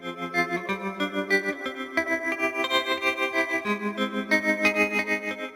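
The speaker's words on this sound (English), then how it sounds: "this tremolo arp here, which is using the tremolo from the Ruby pedal" Guitar arpeggio treated with tremolo from a Ruby pedal and heavy reverb, a rapid pulsing chopped pattern of bright notes washing into a wide ambient tail, played alone in a pop production.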